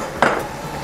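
A utensil scrapes and clatters once against a pan while ground pork is stirred with bulgogi sauce, a single close knock followed by soft scraping.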